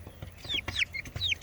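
Motherless chicks give a quick run of high, rising peeps, several short calls close by over faint background noise.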